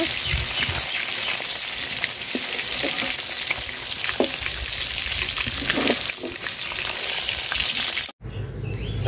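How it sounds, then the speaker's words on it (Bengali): Pieces of shing and magur catfish shallow-frying in hot oil in a home kitchen, a steady close crackling sizzle with light scattered pops throughout, cutting off abruptly near the end; no talking. "মাছ দেখেন আমি হালকা করে ভাজা নিচ্ছি,"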